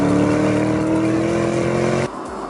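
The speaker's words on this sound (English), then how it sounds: "I'm currently driving on snow and ice in a car that has 641 horsepower rampaging around underneath its bonnet" A 641-horsepower car from The Grand Tour game drives on snow and ice, its engine a loud, steady mechanical drone that cuts off abruptly near the end.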